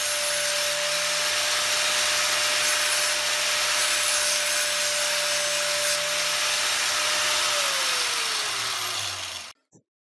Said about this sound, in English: you can also use 240 grit sandpaper